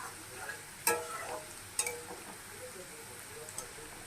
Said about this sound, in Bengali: এখন আমরা এটাকে কনস্ট্যান্ট আলুটাকে এরকম করে নাড়িয়ে যাব, যাতে একটা গায়ে একটা না লেগে যায়